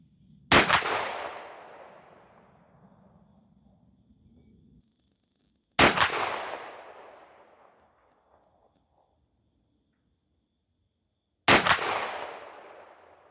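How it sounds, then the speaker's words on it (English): Three loud, widely spaced shots from a Stevens 301 20 gauge single-shot shotgun firing Remington Slugger 5/8 oz slugs at a range, each a sharp crack with a long fading outdoor echo, faint insect hum between. "We'll shoot our groups, then bring everything back to the bench and see how it all performed."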